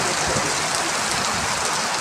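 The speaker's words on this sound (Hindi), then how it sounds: "बहुत ही तेज़ बारिश इस टाइम हो रही है डिस्ट्रिक्ट शोपियान के अंदर।" Very heavy rain pours down in Shopian district amid strong wind, a loud, unbroken roaring hiss of downpour close by with no talking.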